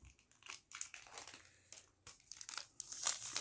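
An instant yeast packet crinkles and crackles close up in a quiet kitchen, an irregular run of crisp plastic rustles and crunches lasting a few seconds, with no talking.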